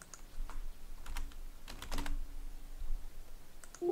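Keyboard shortcuts are tapped on a computer keyboard, a handful of sharp, close clicks in short irregular clusters against a quiet background.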